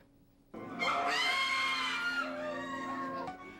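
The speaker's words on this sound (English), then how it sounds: "You could hear screams coming from the basement of Parker Resident Hall this weekend." Screams ring out from a haunted house maze set up in a residence hall basement, a loud, sustained shrill wail rising suddenly after a quiet start and holding for about three seconds.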